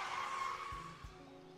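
A car skids in the video game Bear and Breakfast, a sustained tire squeal that fades over about a second with a brief low thump near the end, heard alone and fairly close.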